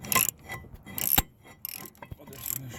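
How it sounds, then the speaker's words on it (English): Ratchet wrench loosening stock brake bolts on a C5 Corvette during rotor and pad removal, giving several short bursts of metallic clicking separated by brief pauses, close and fairly quiet. "finish wrenching it off."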